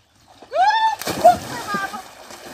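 A woman flops into the water of a small backyard pool on a 28-degree day with a loud close splash and slosh, followed by a delighted vocal cry.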